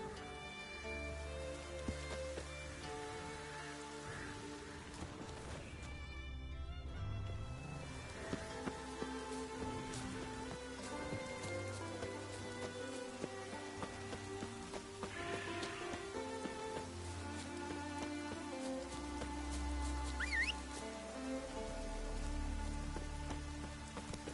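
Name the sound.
rain in The Witcher 3 video game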